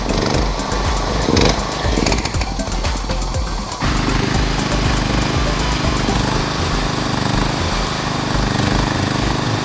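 Used 6.5 kW generator running with a dense, loud engine drone that is rougher and busier for the first few seconds, then settles into a steady, even hum.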